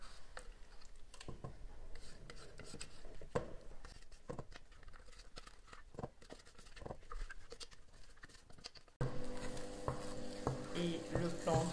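Mashed green plantain paste is stirred nonstop in a cooking pot, with a close, continuous scraping and soft sticky patter plus light sizzling, growing louder and denser toward the end.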